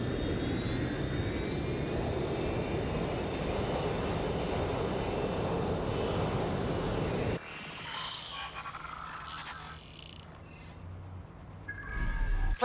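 Airplane flying in the video game Watch Dogs Legion, a loud steady jet-engine roar with a rising whine that drops away abruptly midway to a quieter engine hum.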